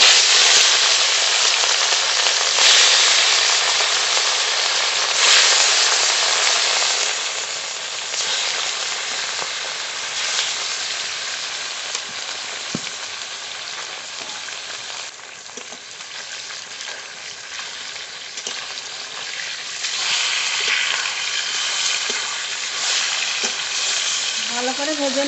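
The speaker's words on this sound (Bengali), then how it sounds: "তেল ভালো করে গরম হয়ে গেছে, লবণ হলুদ মাখানো মাছ দিয়ে দেবো।" Fish coated in salt and turmeric frying in hot mustard oil, a loud, steady, dense sizzle that fills the whole stretch without letting up, close to the pan.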